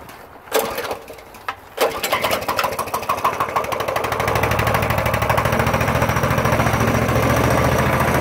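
A mud-caked small engine, choked and pulled into life: a couple of sharp attempts, then it catches and settles into a loud, steady, rapid chugging run close to the microphone.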